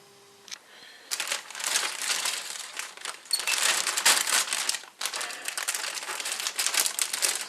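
A large plastic parts bag from a Revell PV-1 Ventura 1/48 model kit is opened and handled, giving close, continuous crinkling and rustling in bursts that carry on throughout.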